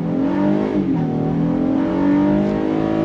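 2022 Honda Passport Trailsport SUV pulling away under throttle from a stop, a loud, close engine note climbing in pitch with a brief dip as it shifts, heard from inside without speech.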